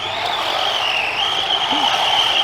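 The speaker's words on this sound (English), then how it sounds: "He came around the corner here drifting." Arrma Infraction RC car drifting around a corner, a steady high motor whine with tire scrub sliding across the turn, continuous and fairly loud.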